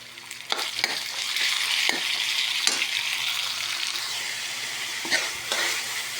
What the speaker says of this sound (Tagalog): Lutuin natin mabuti ang giniling